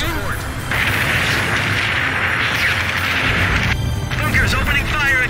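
Explosive bunker fire booms in an Ace Combat 5 air-combat battle, a sustained roar of blasts with bursts over background game audio, close and loud.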